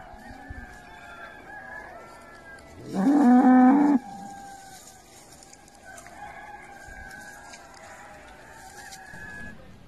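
Cattle calf mooing once, a loud, close, drawn-out call of about a second standing out against quiet farmyard background with faint distant fowl sounds.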